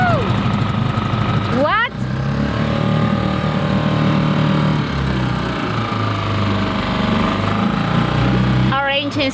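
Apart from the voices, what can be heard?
sailboat engine starting and running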